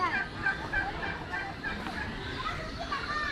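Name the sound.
turkeys gobbling at Chittagong Zoo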